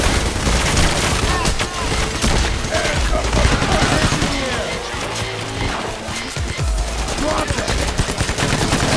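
Gunfire rattles in the heist video game Payday The Heist, dense sharp shots and bursts over busy game noise that runs throughout, with someone talking over the action.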